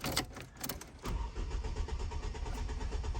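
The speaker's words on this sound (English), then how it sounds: "But it's not going to start up because the fuel pump out." A 2012 Ford Focus SE with a failed fuel pump cranks without catching. A few clicks and rattles come first, then a steady, close, low churning from the starter that continues to the end.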